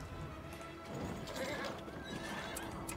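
Horses neighing and hooves clip-clopping amid a busy, dense soundscape in the video game Battle for Middle-earth, with a faint voice in the background.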